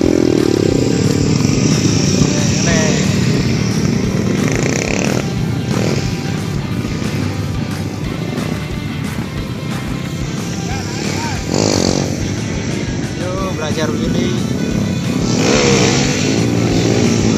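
A Yamaha R15 motorcycle engine revs and idles close by, running steadily throughout with people talking over it.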